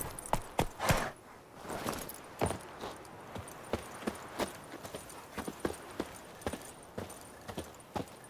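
Roach, the horse in Witcher 3, walks along at a steady clip-clop, with hooves striking in an even rhythm over a soft ambient bed. A few louder thuds mark the start, and no one speaks.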